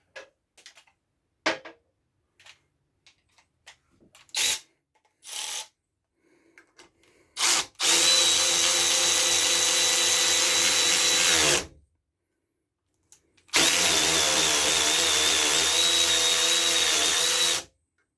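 A Milwaukee M12 Fuel 1/4 inch ratchet and a 3/8 high speed ratchet run one after the other, each a loud, close, steady whir lasting several seconds, preceded by scattered clicks and handling knocks.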